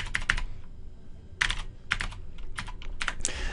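Typing on a computer keyboard while entering data into a Microsoft Access table, with short bursts of close, crisp key clicks separated by brief pauses.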